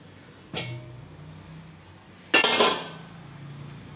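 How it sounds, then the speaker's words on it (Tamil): A metal lid set onto a cooking pot of tapioca, giving two distinct clanks with a short ring, the second louder and rattling briefly, in an otherwise quiet kitchen. "இப்போ மூடி போட்டு வேக வச்சிடலாங்க"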